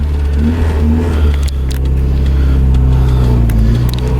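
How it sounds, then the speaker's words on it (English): A car with a B20 VTEC engine runs close by with a rumbling drone, and a loose metallic rattle from the exhaust heat shield ticks over it. "My exhaust is rattling, making a bunch of noise."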